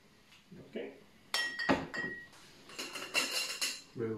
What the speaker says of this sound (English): We will gently stir to mix it.